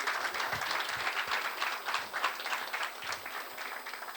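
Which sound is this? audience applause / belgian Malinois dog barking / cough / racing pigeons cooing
audience applause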